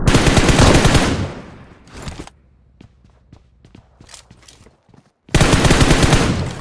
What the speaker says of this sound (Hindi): फायरिंग वगैरह चल रही होती है